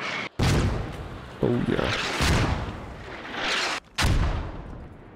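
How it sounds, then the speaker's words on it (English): Mortar fire and explosions in the military video game Squad, several heavy booming blasts in quick succession with dense, loud rumble throughout, and a voice speaking briefly over the gunfire. "The mortar is placed close enough where at pretty much max elevation. It's gonna hit Russians."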